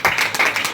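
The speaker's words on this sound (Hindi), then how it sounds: "जोर से ताली बजाओ" A church congregation claps loudly during a sermon, a quick burst of several sharp, rhythmic handclaps from a crowd close by.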